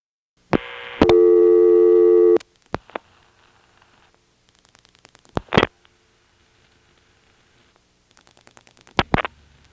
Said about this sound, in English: getting it to put the reorder on over the recording